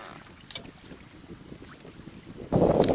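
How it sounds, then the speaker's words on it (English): Strong east wind gusting around a small boat being paddled back to a dock while fishing, a steady rushing buffet against the microphone that swells into a loud, close roar near the end, with no talking. "I struggle to paddle back to the dock against the east wind"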